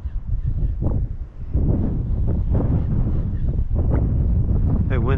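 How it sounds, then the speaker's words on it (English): Strong wind gusts roar and buffet against the microphone on open salt water while kayak fishing near Ozello, Florida, a loud continuous rumble with brief lulls. "That wind picked up."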